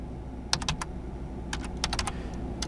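Keys click on a computer keyboard in two short quick bursts of typing, close and clear over a quiet room hum.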